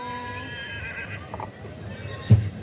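A foal whinnies at an agricultural show in Santarém, a short bright neigh over crowd murmur, followed by a sudden close thump and scuffle of hooves near the end while people talk nearby.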